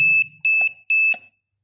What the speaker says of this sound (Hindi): ये फ़िलहाल इसका यार जो बज रहा है अलार्म